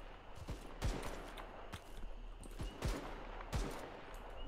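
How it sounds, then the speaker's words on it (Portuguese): Bursts of rapid gunfire crack out in short volleys, several shots a second, over a low rumbling game backdrop with no talking. "Tiro de traçante"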